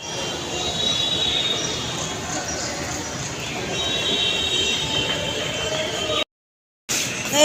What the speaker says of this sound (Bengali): এই মেট্রোটা বেরিয়ে গেল